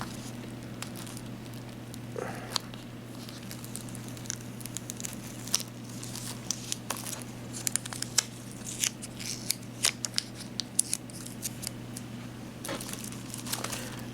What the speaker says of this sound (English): I'm having trouble getting this sticker to come off